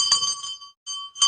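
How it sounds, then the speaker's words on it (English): A small ritual hand bell rings during a lamp-waving offering at a devotional program, bright sustained chimes in two bursts with a brief silence between, fairly soft and without speech. "please ring the bell as you do so"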